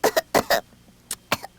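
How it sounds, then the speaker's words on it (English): A character in the 16 Tales PS1 interactive storybook coughs, a quick cluster of four sharp bursts followed by two more spaced coughs, close and alone. "Cottontail pretended to cough."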